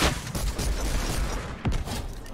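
Rapid bursts of gunfire in the video game Fortnite, a dense crackling fusillade over about two seconds with a sharper boom near the end, moderately loud and without speech.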